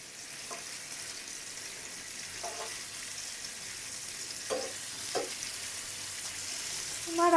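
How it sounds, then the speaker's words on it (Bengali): Potatoes fry in mustard oil for egg khichuri, a steady close hiss and sizzle that runs unbroken throughout, with a few faint clinks of stirring. "আমার আলুটা কিন্তু আমার ভাজা হয়ে গেছে"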